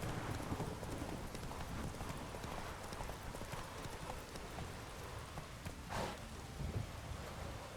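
Horse hooves clip-clop steadily in the Witcher 3 Wild Hunt video game, a continuous rhythmic trot over a soft rain-like ambient wash, with a brief sharper sound near the end.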